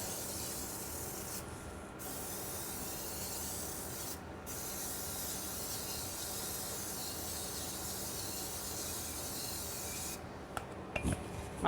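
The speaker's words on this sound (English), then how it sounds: "my cooking spray, and we're just going to spray" A steady, continuous spray hiss from an aerosol can of cooking spray, held close over a 13 by 9 baking dish, lasting several seconds with two brief pauses before clattering at the end.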